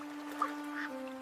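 Ducks quacking in a children's story, a single short quack standing out over a steady tonal hum, fairly faint with no talk.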